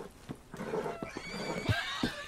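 An agitated horse in the video game Red Dead Redemption 2 neighs and snorts in short, uneven bursts, fairly quiet and close, with a few sharp low thumps mixed in.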